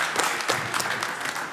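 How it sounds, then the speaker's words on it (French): Applause from a studio audience on a French-language talk show, a dense steady wash of many hands clapping that fills the whole moment without pause. "Applaudissez-le."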